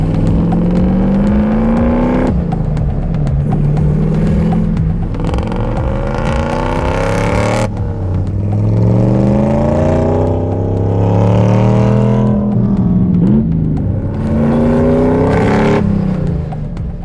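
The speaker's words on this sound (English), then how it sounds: "The stock 1UZ motor, although it's a very bulletproof motor, is normally a little bit lazy in stock form. So this one is supercharged." Supercharged 1UZ V8 in a widebody BMW E30 revving hard and driving, loud and close, with repeated rising engine sweeps and gear-change dips over a steady roar.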